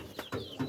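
Farmyard chickens clucking near guinea pigs, three short clucks in quick succession, fairly close and moderately quiet, with no talk.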